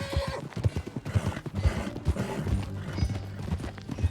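Horse hooves in Red Dead Redemption 2 clop in an irregular, trotting rhythm on hard ground, fairly close, with occasional heavier thuds mixed in.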